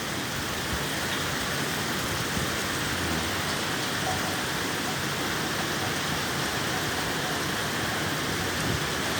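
A steady monsoon downpour roars without pause, thick and loud, the rain drumming evenly on surfaces nearby.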